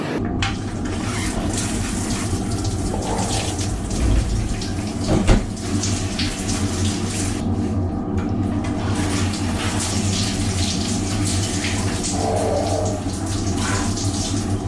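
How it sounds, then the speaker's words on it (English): Water runs in a submarine shower, a steady close rush of spray splashing in a cramped stall with occasional brief thumps and no talking. "the process is soap up, turn on the water, rinse off, shut off the water again, and that's your standard submarine shower"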